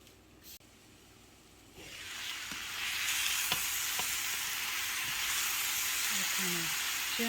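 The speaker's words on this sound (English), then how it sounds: "Kind of gently stir this around because my pan is overflowing already." Peppers and mixed vegetables frying in an overfilled pan, a steady broadband sizzle that swells louder after about two seconds, with scattered scrapes and knocks of gentle stirring throughout.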